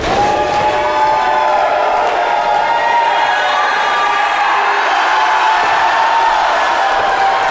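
A wrestling crowd at a Danhausen versus Darius Carter match cheers and roars in a loud, steady wash of voices that never lets up.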